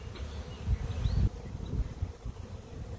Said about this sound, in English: They're marching right in. You can hear them fanning. I can hear the noise.